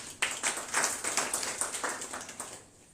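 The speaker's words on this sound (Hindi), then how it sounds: "उनके लिए तालियां हो जाए" Students in a live computer class clap for a classmate, a short run of distinct, fairly soft claps in a loose rhythm that fades out after a couple of seconds.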